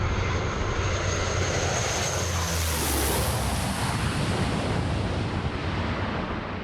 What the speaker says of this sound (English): We are now going to bring the plane into land.